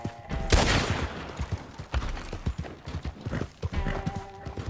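Horse hooves clip-clopping in a video game, a steady run of hoofbeats with a sharp burst early on and ongoing background noise.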